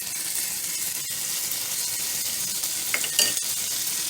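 Minced garlic stirred into a roux of two tablespoons of melted butter in a pan, giving a steady soft sizzle with light scraping, close and continuous, and a couple of brief utensil clinks near the end.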